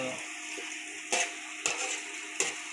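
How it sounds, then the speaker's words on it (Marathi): Onions fry in a pan for murmura chivda, a steady soft sizzle with a few sharp clinks of stirring at intervals, no talk. "जोपर्यंत कांदा लाल होत नाही तोपर्यंत आपण त्यांना भाजून घेऊ."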